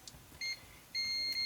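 A multimeter set to continuity mode, testing a fuse on a Sierra Wireless internet modem, gives two steady electronic beeps: a short tone, then a longer sustained one after a pause.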